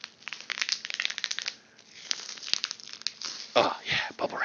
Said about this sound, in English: bubble wrap